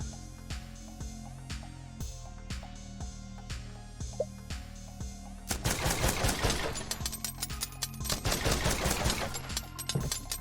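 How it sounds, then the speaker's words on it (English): Rapid bursts of submachine gun fire in the sci-fi video game Space Scum, sustained and dense. Quieter rhythmic gameplay sounds and ticks come first, and then the automatic fire dominates the second half. "SMG out."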